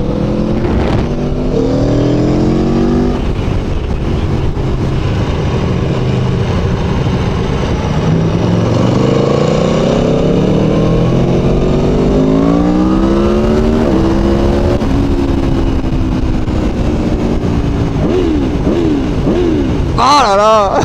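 A naked sport motorcycle accelerates hard on a 2018 road test, one of an Aprilia Tuono, Yamaha MT-07, KTM Duke 1290 or Honda CB1000R. The engine note rises and drops through quick gear changes, loud and close, under a rider's voice.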